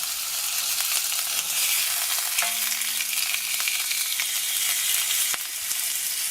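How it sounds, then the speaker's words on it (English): Eye fillet steak searing in a hot pan, a steady close sizzle and crackle running throughout with a few sharp pops and a brief scrape. "we're just searing it and then put it on the side"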